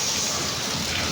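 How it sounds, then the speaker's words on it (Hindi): Heavy rain pours steadily in a dense, unbroken hiss with no voices, a continuous downpour filling the whole moment. "और बारिश तो बहुत तेज़ हो रही है, बहुत ज़्यादा"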